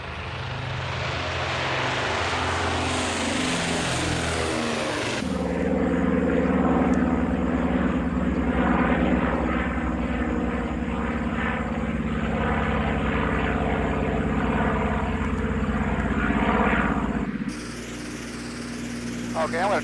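B-25 Mitchell warbird bomber in flight, its radial piston engines giving a loud, steady, close droning roar that holds throughout with a brief shift in tone near the end.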